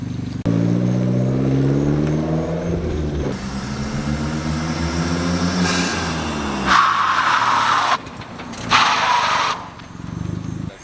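A drift car's engine runs nearby, its pitch shifting as the vehicle rolls in, followed by tire and brake noise as it slows and stops.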